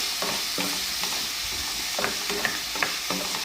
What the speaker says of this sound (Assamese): এতিয়া মই ইয়াত কাটি ৰখা আলু কেপিচৰ লগতে ধুন্দুলিখিনিও দি দিছোঁ। এনেকৈ অলপ টাইম ভাজি ৰাখিম।